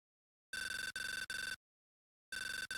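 Phone ringtone in Echoes of a Turnabout, a bright electronic bell-like trill sounding in three quick bursts, a pause, then a fourth burst, clean and alone.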